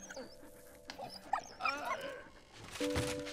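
A dog in the video game Valiant Hearts: The Great War gives a short string of yips, whimpers and barks, fairly faint over game ambience and tones.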